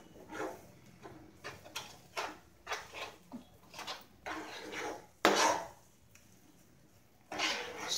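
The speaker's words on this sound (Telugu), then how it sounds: "ఇవి అంతా కలిసేలాగా మనం ఈ విధంగా కలుపుకోవాలి" Wheat flour halwa being stirred with milk in a metal pan, giving repeated scraping and clinking strokes of a spoon against the pan, close and fairly soft, in an irregular rhythm with brief pauses.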